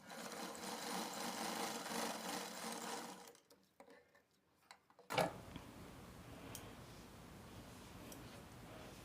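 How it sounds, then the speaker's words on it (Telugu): A sewing machine stitches the front part of a blouse with a rapid mechanical whir, pauses briefly with a few clicks, then runs again at a quieter, steady rattle. "ఇప్పుడు ఇది స్టిచ్ చేసి చూద్దాం సరేనా ఇక్కడి నుంచి ఇలా స్టిచ్చింగ్ చేసేయండి"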